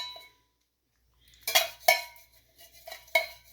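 Utensil scraping and clinking against a pan while a bread dessert mixture is stirred, several distinct knocks and scrapes close by after a brief silence, no talking.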